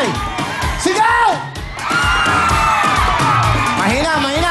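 A large crowd at an outdoor gathering yells and cheers together on command, a loud sustained roar with whoops and voices rising and falling.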